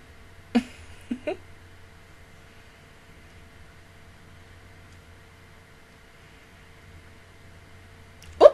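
A sharp sneeze bursts out near the start, followed quickly by a couple of smaller ones, then a long hush before another sudden sneeze at the end.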